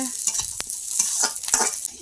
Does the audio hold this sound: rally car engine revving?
no